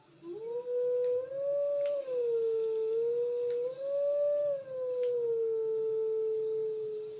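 A wolf howl melody from a Howling Stone in Zelda: Twilight Princess plays as a clear, sustained, tonal howl that bends slowly up and down in a few long phrases, with faint chimes behind it and no talk.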